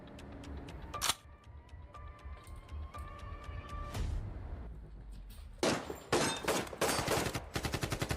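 An MP5 submachine gun fires in a video game in sharp single and rapid bursts of shots, with some short gaps between volleys and a fast string of shots near the end, fairly faint overall.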